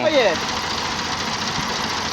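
A tractor engine runs with a steady rough drone close by while someone talks over it.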